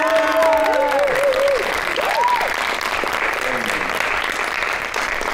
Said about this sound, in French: qu'on remercie et surtout qu'on va applaudir